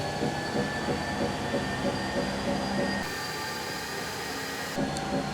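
A Decathlon Domyos Run 500 treadmill runs at its 16 km/h top speed, giving a loud, steady mechanical whir and rumble with a rapid rhythmic belt thumping, fairly close and continuous throughout.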